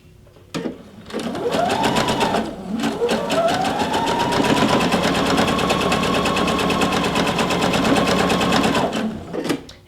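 A sewing machine fitted with a hemmer presser foot stitches a fabric hem in one continuous, close, loud run of about nine seconds. The motor whirs up in pitch at the start and holds a steady buzzing drone.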